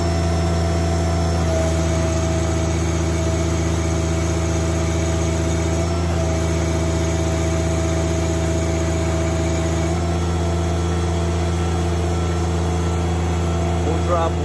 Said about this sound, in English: I do have it at full throttle right now